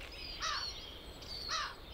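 A small cartoon bird chirps from a tree in two short bright bursts about a second apart, faint and alone over a quiet background.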